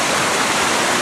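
Roaring waterfall heard up close on a Balkans boat outing, a loud, dense, unbroken rush of falling water with no voices over it.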